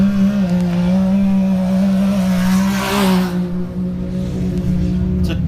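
A 2021 Can-Am X3 Turbo RR off-road racer qualifying in the desert drones loudly and steadily at close range, its engine note dipping slightly then holding as it drives on.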